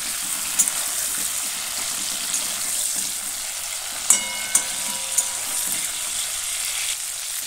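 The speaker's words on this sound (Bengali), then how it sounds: "ওই তেলের মধ্যে মাংসগুলো ভেজে নিচ্ছি।" Chicken pieces frying in hot oil for a Bengali chicken and potato curry give a steady close sizzle, broken by a few sharp clinks and stirring sounds.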